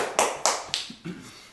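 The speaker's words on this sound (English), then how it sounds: "We have a girl clapping here saying yes" A girl claps her hands about four times in quick, uneven succession, the sharp slaps close and bright, the last ones softer and trailing off.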